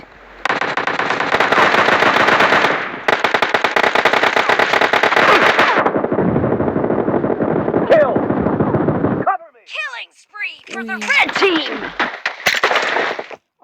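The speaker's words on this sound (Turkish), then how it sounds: "Uzi'ye hiç kimse dayanamaz" Video-game Uzi gunfire: long, loud, continuous automatic bursts for several seconds, then a short pause and a scattered run of sharper single shots and echoes.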